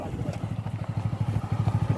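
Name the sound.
motorcycle being loaded onto a river ferry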